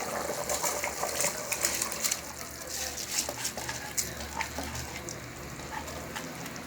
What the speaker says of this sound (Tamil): இப்போ இதில் நம்ம அரிசி சேர்த்துக்கலாம்.